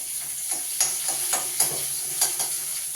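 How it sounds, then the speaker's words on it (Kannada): Chopped onions sizzle steadily in a pan on the stove, while a spoon scrapes and stirs them every half second or so. The stirring scrapes come through clearly over the continuous frying hiss. "ಇವಾಗ ಅದು ಸ್ವಲ್ಪ ಕಂದು ಬಣ್ಣ ಬರೋ ತನಕ ನಾವು ಫ್ರೈ ಮಾಡಬೇಕು"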